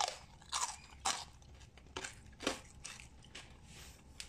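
Crispy Thai roast pork skin being bitten and chewed up close, a series of loud sharp crunches spaced roughly every half second, alone without talk.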